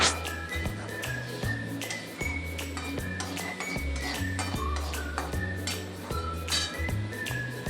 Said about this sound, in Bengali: আর তারপর কিছুক্ষণ ভালো করে আবার নাড়তে থাকবো